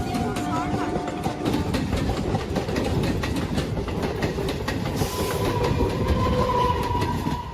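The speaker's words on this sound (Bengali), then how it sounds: "এটা তো ট্রেন গেল" A train rolls past nearby, a steady loud rumble and rattle of wagons running through the whole stretch, with a voice or two talking over it.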